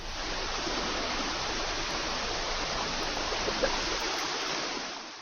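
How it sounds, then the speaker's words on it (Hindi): Floodwater rushes down a swollen river in Uttarakhand after heavy rain, a dense, steady roar of broadband noise heard from nearby with no pauses and no voices. "पूरा भरपूरी पानी चल रहा है।"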